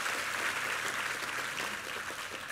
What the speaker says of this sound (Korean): 우리 2부 성가대 한번 힘찬 격려의 박수 부탁합니다.